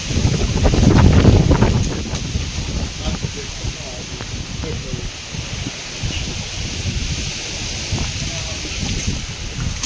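Strong gusty wind sweeps through a village during unseasonal rain. It buffets the microphone with a heavy, rumbling roar that peaks early and then keeps rushing steadily.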